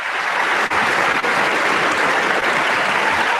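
Steady, dense applause from a radio call-in show audience, loud and continuous for a few seconds with no speech over it.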